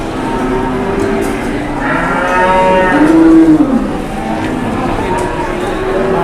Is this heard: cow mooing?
yes